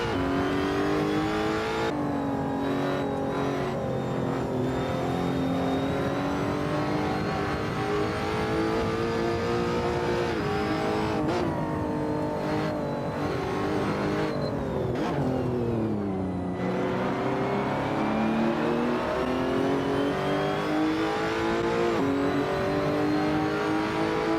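A race car engine on a track revs and accelerates repeatedly, pitch climbing and dropping through gear changes, loud and close with no talk.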